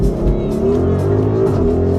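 A 2025 Audi RS Q8 Performance SUV drives off, its engine producing a loud, steady, close drone with a slightly rising pitch.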